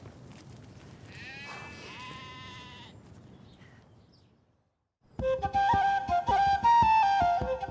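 Eight-year-old ewes on a farm in a green valley bleat a few times, close and fairly loud, over the first three seconds. A short quiet follows, then music takes over.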